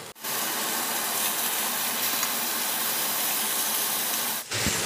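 Sausage frying in oil on a stovetop over medium heat gives a steady, loud, broadband sizzling hiss that runs unbroken before dipping briefly near the end.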